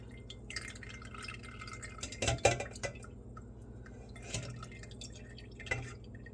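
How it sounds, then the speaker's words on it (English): Mulberry juice drips through a colander: soft drips and small liquid splashes patter irregularly over a low background hum, with a brief clatter of glass or metal in the middle. "Just getting up the last little bit of juice to go through the colander"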